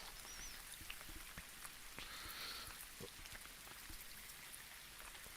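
Rain falling in the Real VR Fishing game on Meta Quest 2, a faint continuous patter with scattered drops landing nearby, steady and quiet throughout with no voices.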